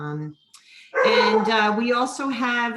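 A pet dog barks in a home during a school board meeting, a short run of close, loud barks and yips following a brief spoken phrase.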